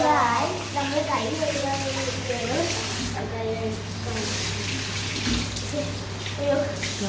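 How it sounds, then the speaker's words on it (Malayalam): Tap water runs steadily while hands are washed at a restaurant sink, a broad continuous rush with voices talking over it throughout. "അപ്പോൾ നമ്മളിനി കൈ കഴുകിയിട്ട്"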